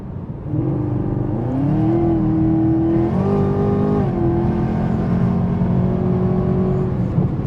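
A 2020 Chevrolet Camaro ZL1 accelerates on an open road, its engine note rising steadily through the gears in a loud, close, continuous drone heard from inside the car, with no talking.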